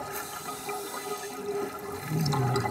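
Spring water gushes from beneath limestone rock at the edge of a mountain river pool, a steady soft rushing and churning that swells slightly louder near the end.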